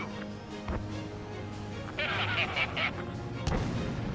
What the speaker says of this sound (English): Missile away. Fox 2.